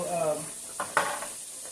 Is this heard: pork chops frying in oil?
yes